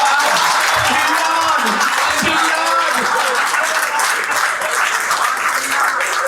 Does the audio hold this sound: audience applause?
yes